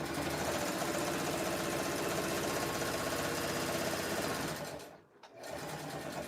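A sewing machine stitches fabric strips into a jelly roll rug, a close, steady mechanical whir with a rapid regular beat that halts briefly near the end and then resumes.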